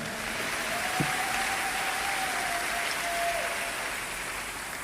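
A church congregation claps in a steady, even wash of applause that is moderately distant and continuous throughout.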